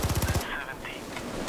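Rapid burst of automatic gunfire in the video game Payday 2, roughly six quick loud shots in a tight rhythm, then it cuts off into quieter background game sound.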